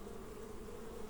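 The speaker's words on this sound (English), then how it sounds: "This hive here, very, very active." Honey bees buzzing busily around an active hive in a Basque Country apiary, a dense continuous drone close by with no talking.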